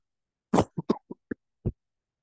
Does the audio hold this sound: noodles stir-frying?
no